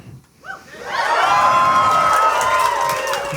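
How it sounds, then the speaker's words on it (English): A live tabletop-game audience breaks into loud cheering and whoops after a brief murmur, the crowd noise swelling and holding strong for several seconds. "You don't have to cheer."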